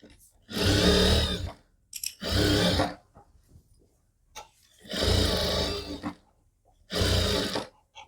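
A sewing machine stitches a kurti in four loud whirring bursts, each lasting about a second, separated by short quiet pauses with faint handling sounds.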